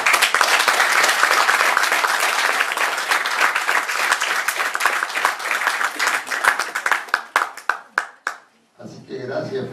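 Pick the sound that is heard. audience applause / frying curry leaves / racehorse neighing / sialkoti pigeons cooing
audience applause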